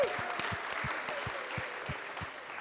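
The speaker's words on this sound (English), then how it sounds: "Give yourselves a round of applause." A live radio concert audience applauds a band, a steady dense wash of clapping with a faint low rhythmic thump running beneath it throughout.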